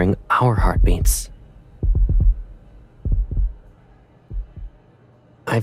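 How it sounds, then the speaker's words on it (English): A heartbeat-detecting device in a romance video game plays slow, soft heartbeat thumps in double beats, spaced out and quiet, after a brief stretch of speech and with another voice starting at the end. "Now we're hearing our heartbeats."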